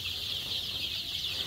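Desi and Egyptian Fayoumi chickens on a small poultry farm give soft, continuous clucking and chatter at close range, steady and unbroken with no voices over it.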